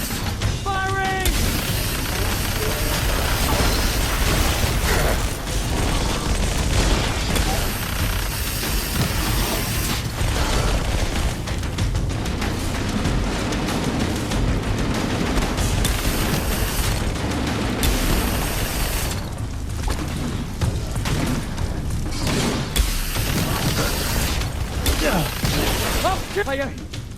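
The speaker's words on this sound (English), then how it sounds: "Don't stop shooting it!" Dense, continuous gunfire and explosions from a Halo campaign firefight, with bursts, booms and rapid shots layered over game music, loud and sustained throughout while voices shout during the battle.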